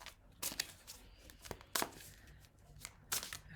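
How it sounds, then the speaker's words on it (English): Tarot cards being shuffled by hand give soft, quiet rustling and riffling bursts that repeat irregularly over a faint background hiss. "I'm going to give my cards a little bit of a shuffle."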